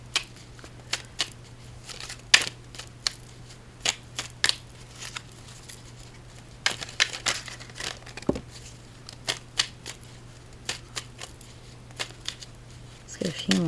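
Fairy dust oracle cards are handled and shuffled close by, making scattered crisp snaps, flicks and rustles at an irregular pace over a steady low hum.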